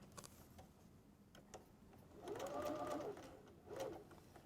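A sewing machine stitching a quilted wall calendar whirs in two short, quiet bursts among faint clicks and handling noise.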